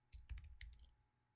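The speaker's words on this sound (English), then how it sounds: "Let's type that in to the chat here." A brief burst of quiet computer keyboard typing, a quick cluster of light key clicks lasting about a second, faint and close, with no voice over it.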